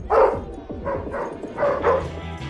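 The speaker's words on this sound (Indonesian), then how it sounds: "mengetahui sumber gonggongan anjing" A dog barks in a series of about five loud, close woofs, spaced in pairs, with a faint murmur of background activity and no clear speech.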